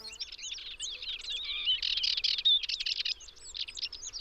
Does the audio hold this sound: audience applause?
no